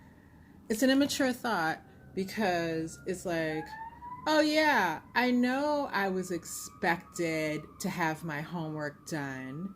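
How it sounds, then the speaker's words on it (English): An emergency siren wails faintly in the distance, its drawn-out tone rising and holding beneath a person talking steadily up close. "I apologize for the sirens in the background"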